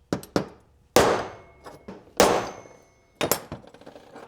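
Sharp metallic hammer taps on nuts of a 1970 engine on a budget run-test stand, about eight strikes in uneven bursts, some single and some doubled, each with a short ringing decay, close and loud with no talk.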